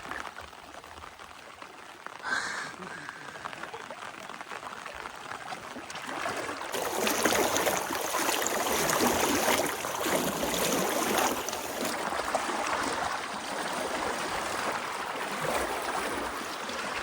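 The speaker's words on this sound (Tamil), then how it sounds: "நேற்றை விட தண்ணி வேகமாக போகுது" Fast-flowing river water in Araku Valley, a broad continuous rushing wash that swells louder midway, close by with no talk over it.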